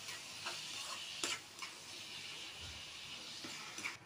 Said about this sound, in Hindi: इसको 10-15 मिनट के लिए हम अच्छे से भून लेंगे।